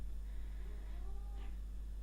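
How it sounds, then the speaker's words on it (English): House cats fighting somewhere in a room, giving a faint drawn-out yowl and a couple of rising meows over a steady low hum, with no talk. "Oh wow, my cats are fighting."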